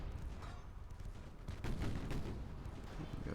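Naval gunfire from a 1920 USS South Dakota battleship in Ultimate Admiral: Dreadnoughts, heavy booming salvos and distant blasts rolling over a constant roar of sea and engine noise.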